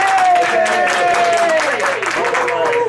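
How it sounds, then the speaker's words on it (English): A round of applause on a radio call-in show about wild mustangs, with clapping and crowd noise mixed under a continuous steady tone throughout. "we give you a big round of applause"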